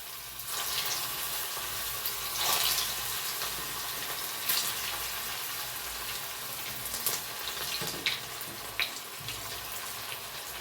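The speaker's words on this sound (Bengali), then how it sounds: "তেল ভালো মতো গরম হয়ে গেছে, এখন আমি বড়াগুলো ছেড়ে দিচ্ছি।" Flattened drumstick flower fritters (sojne fuler bora) fry in hot oil with a continuous bright hiss and scattered crackles and pops, fairly loud and close, with no talking.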